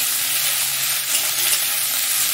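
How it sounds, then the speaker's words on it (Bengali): Jute leaves sizzle in a pan with onions already fried red, a steady close frying hiss with no talk, lasting the whole short stretch. "দিয়ে ভালো করে একটু ভেজে নেব।"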